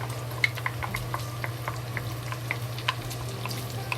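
Ginger and scallion fry in rendered bacon fat, giving a continuous close bubbling sizzle with frequent small pops and crackles over a low steady hum.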